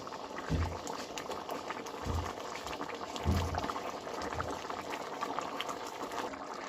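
A pot of beef tehari bubbles at a full boil, a steady low burbling with periodic heavier gurgling surges, moderately quiet and close.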